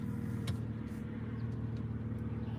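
A car engine idles steadily nearby, a smooth low hum with no revving, quiet and even throughout.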